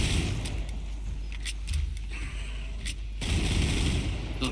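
Loud, continuous gunfire in the video game Killing Floor 2, with sustained rapid bursts of shots over a constant rumbling background and a brief lull midway.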